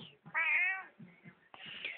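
A talkative house cat meowing up close: a short chirp, then a long drawn-out meow, a pause with soft breathy sounds, and another rising meow, with no people talking.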